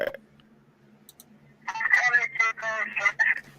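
Telephone voicemail playback of bizarre noises: a quiet click at the start, then about two seconds of loud, choppy tonal bursts with a warbling, phone-line quality, separated by short gaps.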